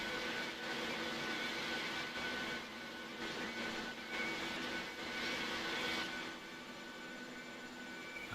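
Steady jet engine whine and rumble of a Logan Air CRJ 700 taxiing in a flight simulator game, fairly faint and continuous with slight swells.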